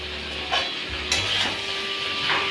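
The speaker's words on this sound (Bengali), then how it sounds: "এবার আমি বেগুন ভাজাগুলো দিয়ে দিলাম।" Fried eggplant goes into a pan of mixed winter vegetables, giving a steady soft sizzle with a few scraping stirs and light clinks of a utensil against the pan.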